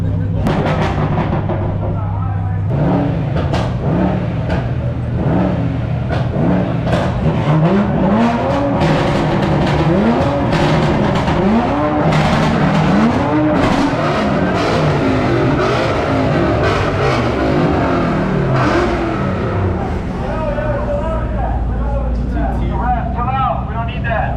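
Several cars at a late-night street meet, among them a Toyota Supra, an Audi R8 and a Ford GT500, driving close by with repeated engine revs and rising accelerations over steady road rumble, with people talking throughout.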